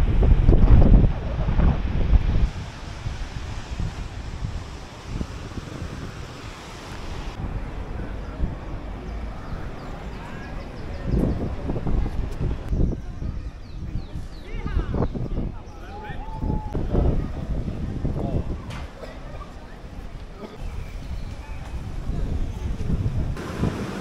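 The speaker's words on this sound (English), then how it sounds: "Waves are crazy." Ocean waves and wind on the coast of Tenerife, a steady broad roar of surf with wind buffeting the microphone, loudest at the start and continuing throughout under occasional talk.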